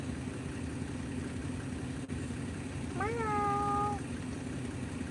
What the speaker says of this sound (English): Yeah, the cat, her name is Cleo.